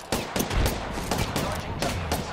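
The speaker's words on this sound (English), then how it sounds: "He's firing." An enemy fires in a video game: quick repeated bursts of gunfire, close and punchy, with several clustered shots and short pauses between volleys.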